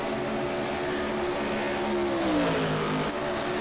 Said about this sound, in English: That seems to be where I'm revving in 4th gear.